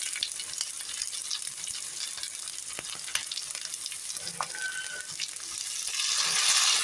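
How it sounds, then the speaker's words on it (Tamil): Onions sautéing in oil in a pan for Kadappa gravy, a continuous crackling sizzle with scattered pops and spatters and a few scrapes of stirring, swelling louder near the end, with no talking. "இப்போ நல்லா ஓரளவு நல்லா வெங்காயம் வதங்கிருச்சு"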